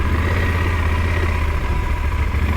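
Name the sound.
Yamaha Super Tenere motorcycle engine in touring mode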